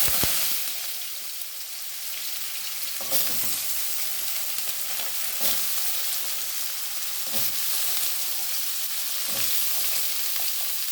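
Chopped potatoes fry in hot oil with a steady close sizzle, broken every few seconds by the scrape and clatter of stirring.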